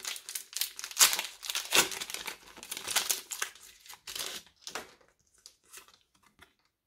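A foil Pokémon GO booster pack wrapper is torn open close up in irregular crinkling, tearing bursts that thin out into a few soft rustles and then silence.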